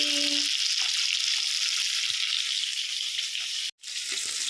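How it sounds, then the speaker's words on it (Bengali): Fish frying in a pan at home, a loud continuous hiss of sizzling oil with faint occasional ticks and a brief break near the end, no talking. "এখানে মাছটা আরেকটু ভাজা হচ্ছে, মাছটা তো ভাজতে একটু টাইম লাগবে"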